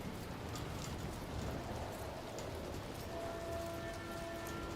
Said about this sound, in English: It's raining again. I hate it. Why do we always have to work in the rain?